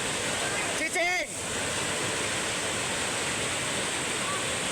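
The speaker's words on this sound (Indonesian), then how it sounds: "Terjangan arus deras melanda Kampung Cibayoni, Desa Kertajaya, Sumur Pandeglang, Banten." Rushing floodwater current surges through a village in Cibayoni, Kertajaya, Sumur, Pandeglang, Banten, a steady loud broadband roar that fills the whole stretch, with a brief voice rising over it near the start.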